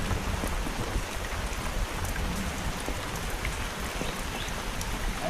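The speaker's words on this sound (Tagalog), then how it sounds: "Umuulan." Steady rain falls over the rural yard, a dense, even hiss of drops on surfaces that holds constant and fairly soft, with no voices.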